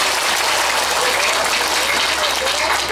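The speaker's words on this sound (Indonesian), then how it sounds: "tepuk tangan untuk semua panitia" Steady, loud clapping from an audience at a Sundanese religious talk, honoring the event committee, sustained evenly throughout with crowd noise and a low hum underneath.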